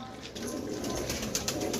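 Pigeons of a single breed from one loft cooing softly, low throaty burbles under faint background hiss, brief and fairly quiet.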